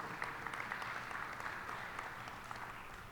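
Audience applause at a district town hall meeting about a destination resort development, a steady wash of distant clapping from a crowd, faint and even throughout.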